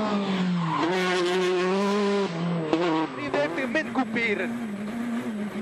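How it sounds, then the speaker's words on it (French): A rally car spins round during a special stage of the Ypres Rally, its engine whining and revving close by in rising and falling surges. Choppy bursts of throttle follow as it manoeuvres to restart, with a voice talking over it. "Pour Freddy Loix, tête à queue dans la spéciale numéro 5"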